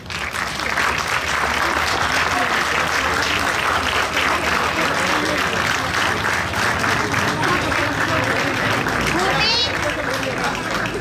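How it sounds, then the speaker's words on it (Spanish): A crowd at a hill-climb car racing event claps loudly and continuously for the team members. Voices and children's chatter mix into the sustained applause. "Un aplauso para ellos."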